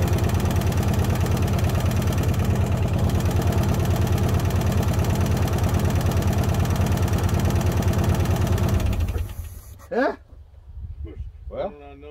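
A Subaru Brat engine, running with little or no coolant, idles with a steady, close, throbbing rumble, then cuts off, leaving quiet voices talking afterward.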